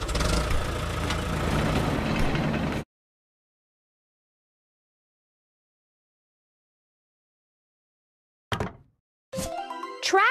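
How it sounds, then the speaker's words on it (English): A toy road roller's engine rumbles loudly for a few seconds, then cuts out into silence before brief clicks and a short burst of mechanical sound return at the end. "Road roller."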